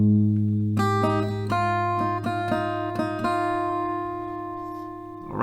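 Acoustic guitar plays a riff at standard tempo, a little faster, with crisp plucked notes and sustained ringing strings. The guitar is close and solo, with no voice over it.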